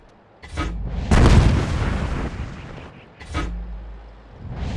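In a tank combat game with an FV304 on the Steppes map, tank shells strike armor in heavy booming blasts, a big impact near one second followed by further rumbling hits.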